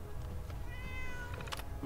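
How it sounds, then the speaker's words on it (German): A cat in the Fallout 4 video game meows over a dense, steady layer of in-game ambient sound and music, the cry rising briefly near the end with no talking. "Ach, das ist eine echte Katze!"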